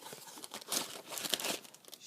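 Thin plastic bag holding a Magpul K2+ AR15 pistol grip crinkles and rustles up close as it is handled during unpacking, a steady crackly run of small rustles with no voice.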